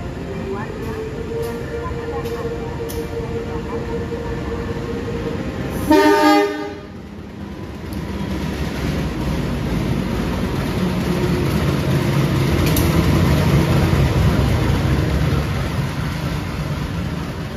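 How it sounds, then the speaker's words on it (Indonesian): A Kutojaya Selatan train passes at Sidareja station in Indonesia: one loud horn blast stands out against a steady, close rumble of rolling wheels and carriages that continues to the end. "Bertemu kereta api Kutojaya Selatan di stasiun Sidareja"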